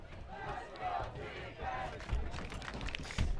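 A rowdy crowd at a Loveland versus Frederick high school varsity football game cheers and yells in swelling bursts, with voices talking over the noise.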